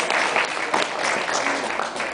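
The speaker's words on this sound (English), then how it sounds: "Another round of applause," An audience at a welcoming ceremony in Rotorua claps in a dense, continuous round of applause, fairly close and steady throughout.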